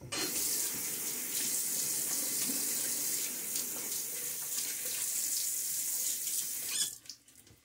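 Steady stream of running tap water, with a Gillette Platinum blade on a Henson Aluminum safety razor being rinsed in a sink; continuous and close, alone, cutting off abruptly near the end.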